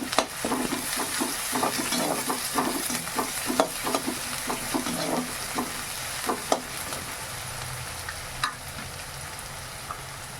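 Small onions and curry leaves fry in a pan, a steady sizzle broken by a quick series of scraping, knocking stirs that thin out toward the end, close by and moderately quiet.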